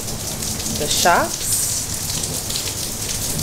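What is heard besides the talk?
heavy rain falling outdoors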